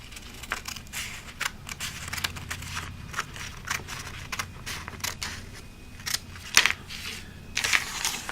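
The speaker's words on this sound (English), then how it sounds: "So what you're going to do is take your scissors" Scissors snip through paper along the dotted edge of a foldable, giving a steady run of crisp, irregular cutting crunches and small clicks, close and fairly quiet, with no talking.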